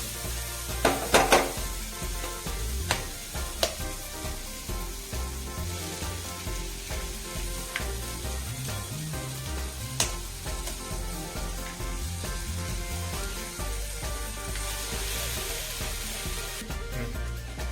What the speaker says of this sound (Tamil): அடுத்தது நம்ம முட்டையை உடைச்சு ஊற்றிக்கலாம்.